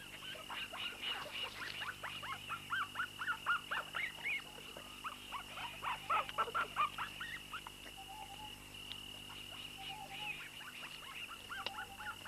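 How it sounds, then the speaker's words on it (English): Three-month-old wild dog pups squabble over regurgitated meat from a kill, giving off a busy run of high squeaks, yelps and chattering whines, close and fairly quiet, with no talk. "They fight and squabble over the meat as they begin to establish a seniority among themselves."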